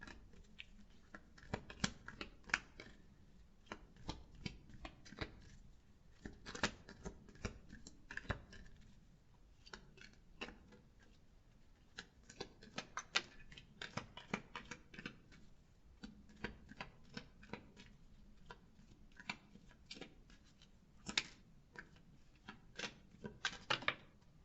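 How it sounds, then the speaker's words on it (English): Tarot cards being shuffled on the legs, a dense run of soft, rapid papery riffles and flicks that continues for the whole stretch, fairly quiet and close, with no speech. "I'm just trying to shuffle those on my legs so that you don't hear all the snaps"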